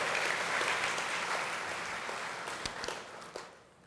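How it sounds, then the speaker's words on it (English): Audience applause at a city's State of the City event for Community Medical Center, a steady broadband wash of many hands clapping that gradually thins and fades toward the end, with a few louder individual claps near the close. "Let's give them a great warm round of applause and thank them for their support."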